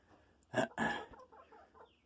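Chickens in a backyard coop, part of a flock of about seventeen or eighteen birds, give a couple of loud close clucks followed by softer, quieter murmurs.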